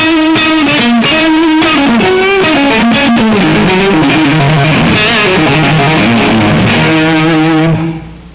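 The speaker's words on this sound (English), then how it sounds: "Then I'm running into a distortion box, which is giving me an extra bit of gain." An electric guitar plays a melodic line through heavy distortion, its tone sweeping with a wah-like filter, loud and sustained before fading at the end.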